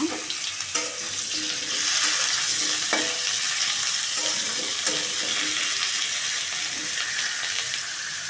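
Pointed gourd (potol) frying in a pan gives a close, continuous sizzle, with scattered sharp scrapes and clicks from stirring throughout.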